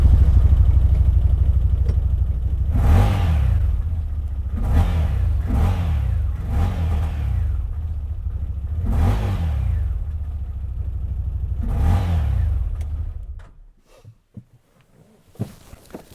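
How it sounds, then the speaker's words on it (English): CFMOTO ZFORCE 950 HO EX UTV engine idling loudly up close, then revved in a series of five or six quick throttle blips over the idle before shutting off, leaving a few faint clicks. "Now, I know you guys always want to hear stuff running, so I will start this up."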